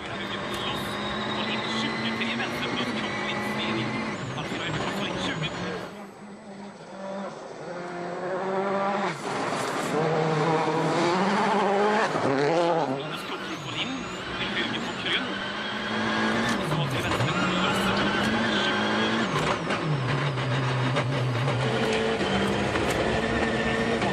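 A WRC rally car races through a special stage of the 2014 Rallye de Sardaigne, its engine roaring loud and near as it revs hard and shifts through gears, with a commentator talking over it.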